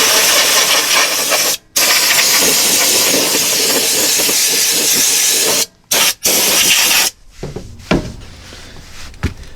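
Aerosol of lanolin-based Fluid Film rust coating sprayed under the front of a 2020 Ford F-150, loud continuous hissing bursts with brief pauses between sprays, ending in quieter intermittent puffs.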